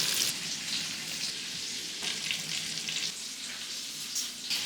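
Brisket cubes frying in a pot for Texas chili, stirred now and then: a dense, steady crackling sizzle with faint occasional scrapes, no talk.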